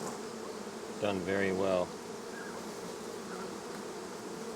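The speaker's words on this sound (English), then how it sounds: "These Saskatraz bees have" Saskatraz honey bees hum continuously around an open hive, a steady low drone under a brief stretch of someone talking.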